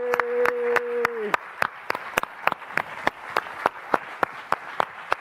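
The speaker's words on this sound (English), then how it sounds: "Everybody give a round of applause for our guy, Danny Silman." A live podcast audience applauds a guest as he arrives, a speaker's voice fading at the start, then a scattered, rhythmic run of individual claps, fairly close and distinct, continuing to the end.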